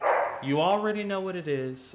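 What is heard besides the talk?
dogs barking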